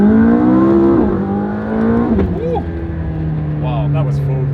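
A Lamborghini Murcielago accelerates hard, its engine note climbing through the gears with a brief shift break, a loud close-up mechanical roar that later settles into a steady high drone as a voice speaks briefly over it.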